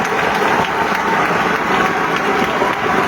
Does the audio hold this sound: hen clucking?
no